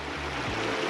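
McCormick's Creek in an Indiana state park, at the Trail 10 crossing, flows with a steady, close rushing wash of water for a brief moment, with no talk over it.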